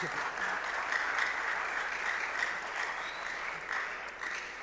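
Steady applause from a closing-ceremony audience at a Ghana digital innovation week, a dense, even patter of many hands clapping that holds throughout and eases slightly near the end.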